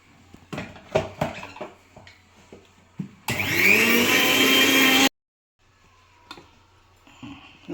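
A mixer grinder whirs loudly for about two seconds, grinding sugar with cardamom, between scattered clicks and knocks of handling the jar and lid in a kitchen.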